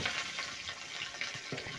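Green chilli crackles and spits in hot oil with bay leaf, dried red chilli and panch phoron, a dense close sizzle with small pops and occasional stirring scrapes.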